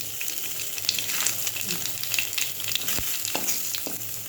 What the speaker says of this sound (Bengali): এবার এই তেলের মধ্যে এই যে চন্দনীটা দিয়ে দেবো